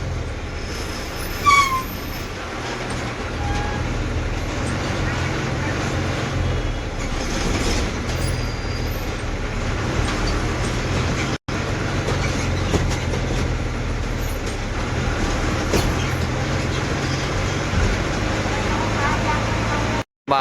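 An MSRTC Lal Pari bus rolls into Swargate bus stand in Pune, its steady engine rumble and road noise continuous throughout, with a brief clatter and voices faintly mixed in the background.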